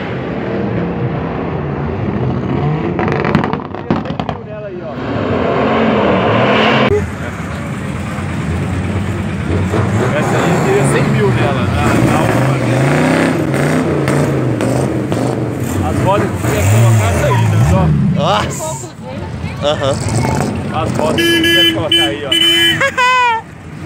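Old classic cars rumble and rev their engines at a car gathering, with rising and falling engine roar through most of the stretch while people talk excitedly over it nearby.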